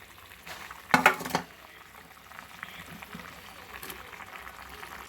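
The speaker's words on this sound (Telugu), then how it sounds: "వాటర్ బాగా బాయిల్ అవుతుంది." A pot of water for paneer tomato curry bubbles at a steady low boil, with a brief clatter of a utensil near the start and a faint rolling burble after.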